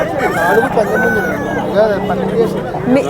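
A rooster crows in long drawn-out calls amid a busy crowd of country chickens clucking at a tribal market, with people chattering nearby.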